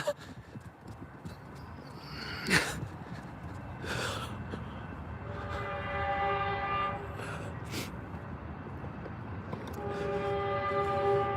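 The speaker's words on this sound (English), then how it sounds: "Oh, another train!" A Metrolink commuter train passes by, its low rumble and rolling wheels building steadily, with two sharp horn-like blasts early and sustained steady tonal whines later, heard from a moderate distance with no speech.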